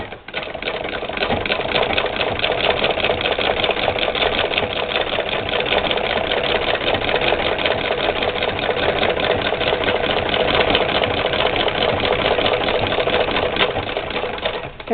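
A White 1891 VSIIb treadle sewing machine stitches through a plastic book with a steady, fast mechanical whir and rapid clatter. The sound is close and continuous for the whole stretch, with no speech.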